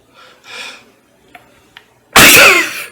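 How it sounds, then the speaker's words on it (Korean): A single loud, explosive cough bursts out after a few faint breathy sounds, close and forceful, with no speech around it. "이렇게 기침하면 안 되겠죠"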